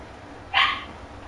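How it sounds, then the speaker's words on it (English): A single dog bark rings out at moderate distance over a quiet background hum, with no talking. "I'm hearing your dog."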